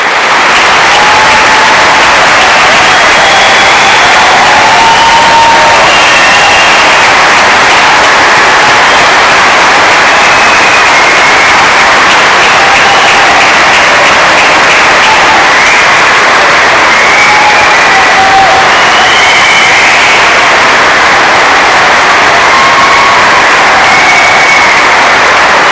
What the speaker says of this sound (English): let's start today's ceremony by giving all our amazing graduates a really huge round of applause